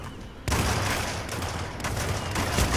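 Gunfire in the PS4 game Hitman, a loud sudden burst of rapid shots that continues as a dense, rough barrage over about two seconds.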